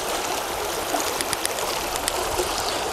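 A creek flowing over rocks after recent rain makes a steady, close, bright rush of water with small trickling splashes scattered through it, heard alone without voices.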